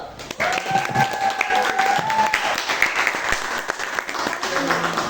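A classroom group claps in applause after a group presentation, a dense close burst of clapping that runs the whole stretch while a voice talks over it.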